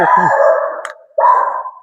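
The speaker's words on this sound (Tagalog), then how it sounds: "yung aso sa kabila" A neighbouring dog next door barks and howls in long, loud, strained yowls, a sustained cry breaking off briefly then resuming, close and clear with no talk over it.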